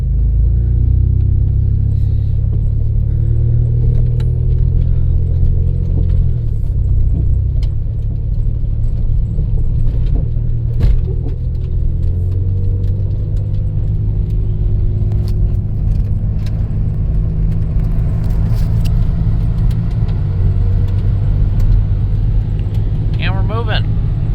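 Engine of a 1991 Dodge Grand Caravan SE with its muffler deleted, driving on the road after 22 years off it: a loud, continuous low rumbling drone throughout, with occasional rattles and a person talking over it.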